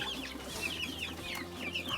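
Farm chickens, including Brahma hens and guinea fowl (kai tok), cluck and chatter in a busy overlapping flock, moderately close with repeated short calls over steady background noise.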